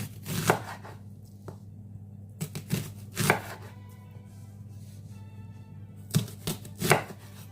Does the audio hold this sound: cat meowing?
no